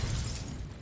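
A Confringo fire spell bursts in Hogwarts Legacy, a brief, loud, rumbling blast that decays quickly within under a second, with no speech.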